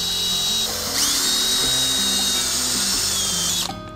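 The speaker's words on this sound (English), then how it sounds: "So I'm gonna go ahead and do the drill." A power drill whines steadily as it cores the center of an agave plant, loud and close for several seconds before cutting off abruptly.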